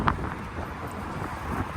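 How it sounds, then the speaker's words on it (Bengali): Strong wind on a bridge in Moscow in summer buffets the microphone in rumbling gusts, a continuous low roar with no voices. "আর ব্রিজে অনেক বাতাস অনেক বেশি"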